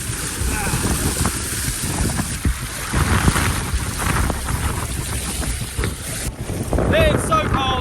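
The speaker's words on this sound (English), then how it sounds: "It's quite a serious river crossing now." Rushing river water and gusting wind buffet the microphone during a cold, wet river crossing on a run across Iceland, a steady loud roar throughout with brief splashing near the end.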